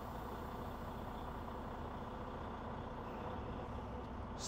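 A Class A truck creeping forward about ten feet during an air brake test, a low steady engine rumble with faint idling-like drone, quiet and continuous, no talking over it.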